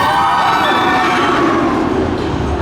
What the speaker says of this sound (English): this is what Black Mamba sounds like